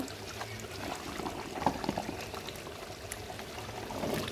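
Milk pours into a pot of chicken biryani with small new potatoes, a soft continuous liquid stream with light splashing and bubbling, steady and close throughout.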